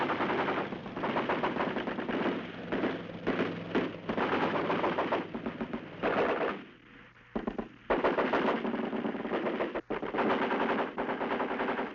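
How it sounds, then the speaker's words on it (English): Archival combat footage of North Vietnamese army troops firing on advancing First Cavalry Division soldiers: loud, sustained machine-gun bursts and rifle fire crackle almost continuously, with a brief lull midway before the rapid volleys resume. "They are greeted by well-disciplined fire from North Vietnamese army troops who have escaped the aerial attack"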